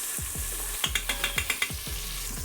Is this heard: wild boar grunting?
no